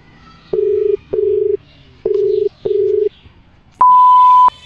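A telephone dialing out: four short, evenly spaced dial tones, then a brief pause and a longer single steady tone as the call connects, clear and close with no talking.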